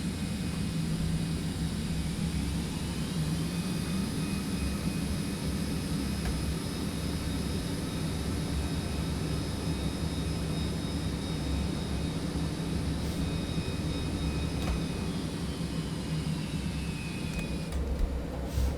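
Citation X business jet in flight in a simulator, its engines producing a constant, even roar with a steady background whine and no change in level for the whole stretch.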